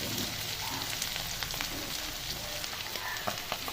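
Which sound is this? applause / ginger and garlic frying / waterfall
ginger and garlic frying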